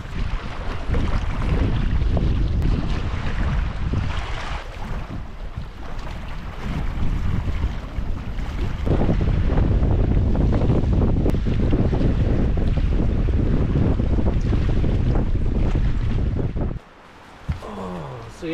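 Strong, steady wind gusting across a lakeside campsite, a constant loud roar buffeting the microphone that drops out abruptly near the end, with no voices.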